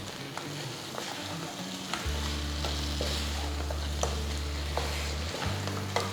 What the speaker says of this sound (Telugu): వీటిని జాగ్రత్తగా ఒక్కసారి మసాలాతో కలపాలి.